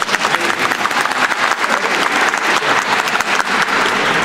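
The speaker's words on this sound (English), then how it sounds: "yes, please applaud for this." Loud, sustained applause from a film festival audience, dense and even clapping throughout with no pauses.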